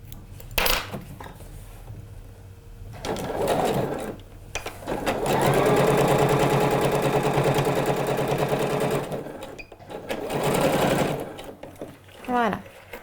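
Domestic sewing machine topstitching a straight seam on a pair of trousers, running in steady bursts of rapid stitching, the longest lasting several seconds, with pauses between where someone talks.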